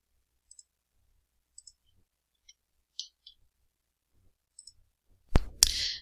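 Computer mouse clicks during Revit modeling work, a scattered series of small, faint, close clicks, some in quick pairs, ending in two louder, sharper clicks.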